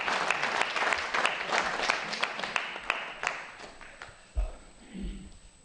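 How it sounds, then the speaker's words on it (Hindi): An audience at a poetry recital on Sadbhavna Diwas breaks into loud, sustained clapping that thins and fades toward the end, with a few scattered claps trailing off. "जोरदार तालियों के बीच"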